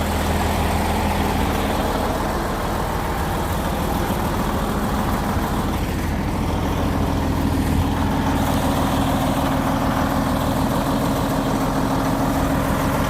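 A large farm tractor's engine idles steadily at close range, a dense, continuous low rumble that holds unbroken for more than ten seconds, with no voices over it.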